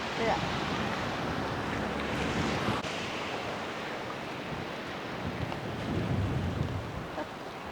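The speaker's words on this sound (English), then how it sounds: "them waves just ripping in that" Ocean waves break on Trestraou Beach on Brittany's Côte de Granit Rose, a continuous roar of surf with wind buffeting the microphone and people talking over it.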